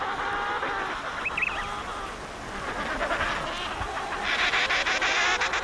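Penguins calling on land in a noisy colony, overlapping honking and braying cries that come in bursts, one clearer call standing out early, over a steady wash of more distant birds.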